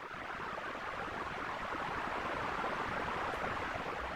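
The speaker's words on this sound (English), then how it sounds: "It's a plugin made to make water sounds, and again, it's free" Synthesized water stream from a free water-sound plugin, a steady, even rushing and babbling hiss that runs unbroken throughout, soft and close, with no voices.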